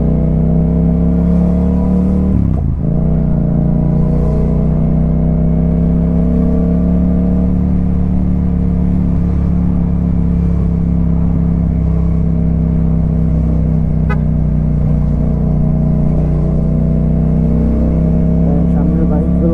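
A Yamaha MT-07 motorcycle rumbles loudly and steadily while riding through traffic, its engine drone close and continuous with slight shifts in revs, and a voice talks over it.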